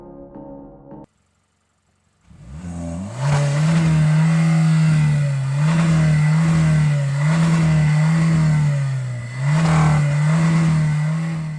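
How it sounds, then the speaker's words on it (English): A 2023 Hyundai Kona with a 1.6 gasoline turbo engine starts up after a brief silence, then settles into a loud, close droning exhaust note with several rhythmic swells as the throttle is blipped. "when the car is running, it is characterized by a slightly louder exhaust sound than expected"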